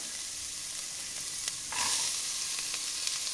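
Chopped shallot sautés in a pan for poulet sauté chasseur, a steady close sizzle with a brief louder burst of spatter partway through.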